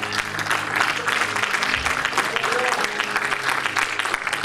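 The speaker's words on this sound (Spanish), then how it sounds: "Denle un aplauso a Cristo en esta hora" A church congregation applauds Christ as a sermon winds down, dense, fairly loud clapping from many people with voices mixed in underneath and a low held tone in the background.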